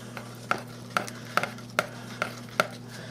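A utensil stirs butter into caramel icing in a pan, making about six evenly spaced scraping clicks close by over a faint steady hum.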